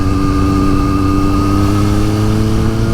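A 2023 Triumph Street Triple 765RS fitted with a RapidBike Evo module revs steadily to around 6,000 rpm, a loud, close, continuous engine drone with strong tonal harmonics and no voices.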